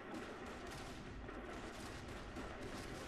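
Gunfire in the Gears of War video game, a dense, continuous clatter of shots and booms throughout, steady and busy rather than separate distinct bangs.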